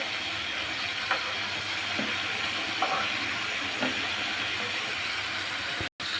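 Prawns frying in soybean oil in a pan give off a steady, moderate hiss of sizzling with a few soft clicks from turning, continuous and fairly near, broken by a brief dropout near the end.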